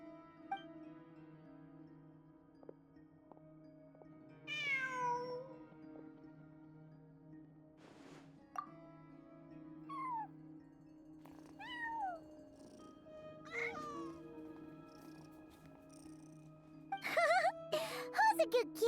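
A cat meows repeatedly in Genshin Impact, rising and falling mews spaced across the scene over a quiet background of steady ambient tones, ending with a burst of clattering activity.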